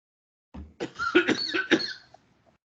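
A person coughs in a short burst of several harsh, close coughs, loud and alone in a quiet room, with no talking.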